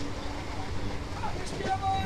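Inside a Sealdah to Bangaon local train running at around 80 km/h, a steady rumbling roar of wheels and carriage with faint rattles and a brief high squeal, voices murmuring beneath.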